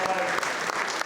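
Applause from an audience at an international media conference in London, dense steady clapping throughout, close and loud with a faint voice beneath.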